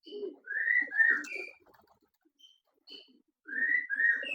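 Pigeons calling with soft coos and whistling notes in a broiler racing pigeon loft in Solo, several close phrases separated by a short quiet gap.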